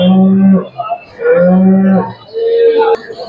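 Cattle at a livestock market low in three long, loud, close moos separated by short pauses, with a brief sharp knock near the end.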